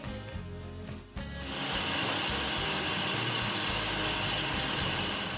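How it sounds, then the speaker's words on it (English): Vacuum cleaner sucking lint and debris out of the opened cabinet of a Kenmore clothes dryer, a loud steady whooshing roar that starts abruptly after a brief pause and continues close and unbroken, with no talking. "I'm going to take the vacuum cleaner and vacuum this all out."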